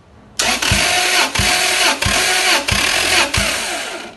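A 2004 Lexus GX470 with the 4.7 L 2UZ-FE V8 cranks on the starter during a compression test, a loud steady whirring drone broken by five evenly spaced heavy compression pulses, with no talk over it.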